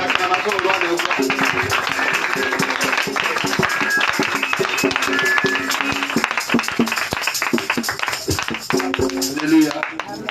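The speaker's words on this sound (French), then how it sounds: "Une acclamation au roi des rois." Congregation at a Pentecost celebration service in Jacqueville clapping and cheering loudly and steadily throughout, with dense sharp claps over sustained crowd voices and music.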